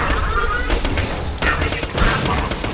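Borderlands 2 gunfire while Zer0 strafes and shoots down Hyperion enemies: loud, rapid volleys of shots in quick bursts, with a brief lull between them.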